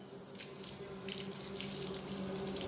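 A running tap splashes water over a soapy dog to rinse it, a steady close gush that continues without a break.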